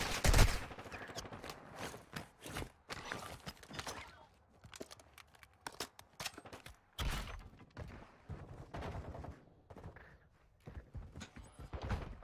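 Gunfire in the multiplayer shooter Call of Duty DMZ, with repeated bursts and single shots scattered across the scene at varying loudness, some close and punchy, mixed with footsteps-like clatter and game noise.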